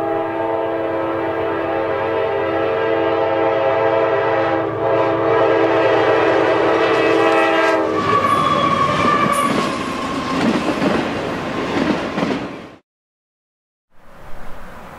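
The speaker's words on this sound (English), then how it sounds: "An auto rack train heads north." A long northbound CSX auto rack freight train rolls past close by between Hamilton and Vandalia, Ohio, a steady loud rumble and drone with rattling cars that shifts midway, then cuts out briefly before resuming.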